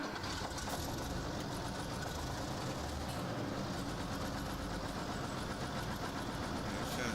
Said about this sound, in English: He's got a bit of a knock and rattle, but yeah, lovely little tractor.